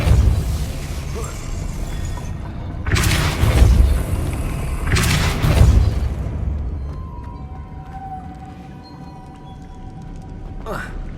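Depulso spell in Hogwarts Legacy on PS5, heard as two loud booming bursts a couple of seconds apart with a heavy low rumble, followed by fainter game effects and a short pop, with a voice speaking.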